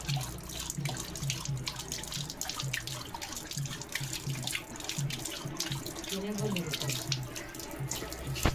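Water runs steadily from a tap, a continuous splashing stream with faint rhythmic thumping in the background.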